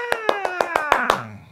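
Six evenly spaced hand claps keep time with a children's rhyme, bright and close, the last one trailing off as a soft tonal hum lingers underneath.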